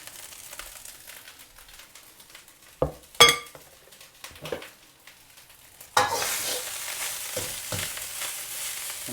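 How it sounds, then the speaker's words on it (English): Rice tipped into a hot, smoking wok for egg fried rice: a few sharp metallic scrapes and clatters, then a loud, steady sizzle of frying that stays up close and fills the rest. "I want to get this wok nice and hot now, so it's smoking. Right, in with our rice."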